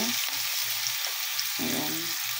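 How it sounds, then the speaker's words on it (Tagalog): Chicken grilling in melted butter in a pan, a steady close sizzle with a low hum and occasional faint movement underneath. "Grill natin siya sa butter."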